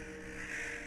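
A crow caws once, a short harsh call heard at a slight distance over a faint background.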